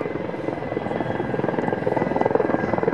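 A Mi-24 Hind helicopter flies by at an air force air show, its steady rotor thrum and engine drone loud and continuous, slightly swelling toward the end with no one speaking.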